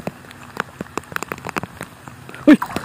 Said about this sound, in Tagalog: Yan mga katsada, malakas na yung ulan.